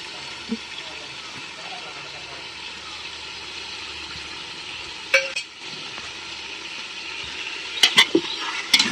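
Ginger garlic paste sautés in a pan for chicken biryani, a low steady sizzle with a few spoon clanks and scrapes toward the end, and a voice speaks over it.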